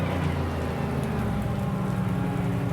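Heavy tropical downpour in Assetto Corsa Competizione at a Kyalami race, a dense, steady roar of rain with a low rumbling bed, continuous and loud throughout with no voices.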